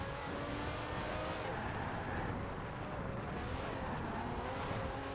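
A 1,000-horsepower all-wheel-drive car in Forza Horizon 4 drones steadily at speed, its engine a continuous close, fairly quiet hum with rough low rumble and no breaks.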